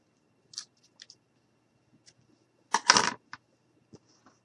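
Scissors snip yarn close up, a few light isolated clicks and then one longer crisp cut, with quiet gaps between.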